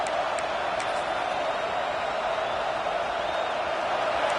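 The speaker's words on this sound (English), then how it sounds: "This crowd bringing the energy and noise early." A football stadium crowd at a UCLA college football game roars in a steady, dense wash of noise throughout, loud and continuous with no single voice standing out.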